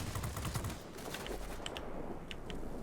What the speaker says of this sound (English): Get that 37mm cannon on target and you will be okay.